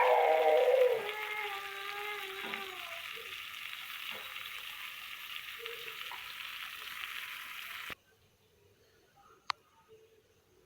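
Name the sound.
eggplant slices frying in a pan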